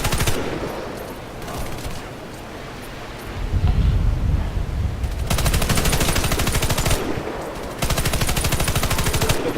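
Rapid bursts of gunfire crackle in sustained volleys across a gameplay battle with distant artillery, loud and dense, with a lull and wind-like rumble between the stretches of rapid shots.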